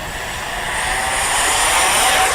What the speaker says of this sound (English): This is just the first flight out, so. Taking off.